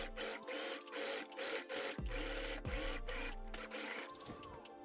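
A sewing machine stitches across the ends of bag fabric, giving a quiet, steady mechanical whir with faint rhythmic ticking. It runs continuously and is heard at a low level with no voices.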